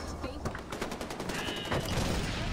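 Rapid gunfire from a weapon in Far Cry 4, a dense burst of closely spaced shots that runs the whole time at a steady loud level.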